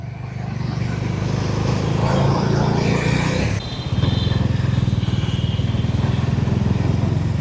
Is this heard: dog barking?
no